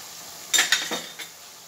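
Chilli powder, turmeric, masala and salt are stirred into hot frying oil for a cabbage and potato fry, a few quick scraping strokes of a spoon against the pan over a low sizzle.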